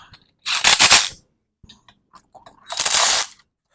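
Intake manifold bolts on an International Harvester 140 tractor being snugged down with a ratchet wrench, two close bursts of rapid clicking separated by a pause with faint tool handling.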